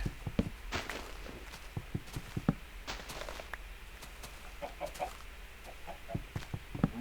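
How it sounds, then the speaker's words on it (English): Chickens in the video game Minecraft give short, sharp clucks scattered through the passage, mixed with quick footstep-like taps and clicks, moderately close with no talk over them. "I wonder if I could kill a chicken with an axe."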